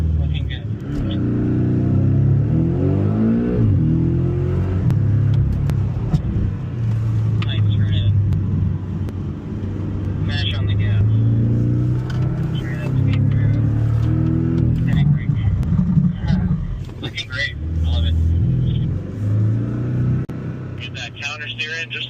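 A Porsche accelerates hard around a track at the Porsche Experience Center Los Angeles, its engine note rising and sweeping through revs close and loud throughout, with a person talking over it.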